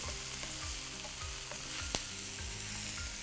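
Spinach cooks in a pan with a steady sizzle and soft frying crackle, broken by a few light scraping stirs and small taps, with no one speaking.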